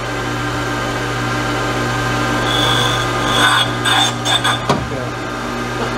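Honing stones align-hone a Ford 351 Cleveland engine block, a steady machine hum with a rubbing, rasping scrape of stone on metal that grows choppier toward the end.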